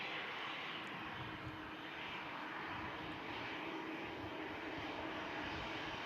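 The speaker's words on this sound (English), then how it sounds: "Let's enjoy this Etihad departure." An Etihad airliner jet departing Manchester Airport produces a continuous broadband engine roar, steady and fairly distant, heard alone without talk.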